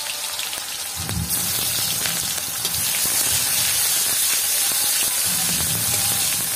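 Chopped onion drops into well-heated oil already seasoned with cumin for a crab malai curry, bursting into a loud, steady sizzling hiss that continues without a break.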